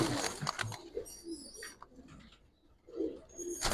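Giribaz pigeons coo softly in short, rounded phrases close by, several calls spaced across a quiet loft, with faint fluttering between them.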